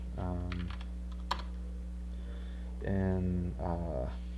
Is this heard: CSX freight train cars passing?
no